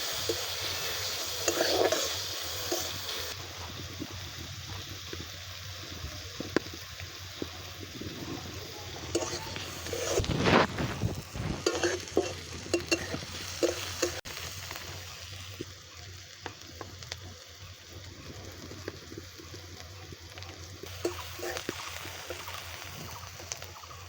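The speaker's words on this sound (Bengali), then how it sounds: "পেঁয়াজটা আমার ভাজা হয়ে এসছে।" Onions sizzle in oil in a pan for fried greens, with stirring and scraping over a steady frying hiss, and one loud clattering burst midway.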